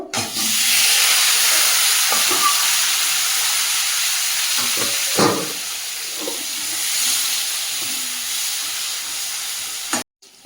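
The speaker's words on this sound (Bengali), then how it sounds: "বেগুনগুলো ওই তেলের মধ্যে ভেজে নেব" Eggplant frying in hot oil gives a loud, continuous sizzling hiss that holds steady for several seconds, with a few faint clinks of a utensil underneath.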